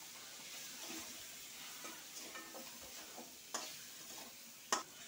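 Spices fry in a pan for a Bengali potato and small-fish curry, a faint continuous sizzle broken by light scrapes and two sharper clacks of a utensil against the pan.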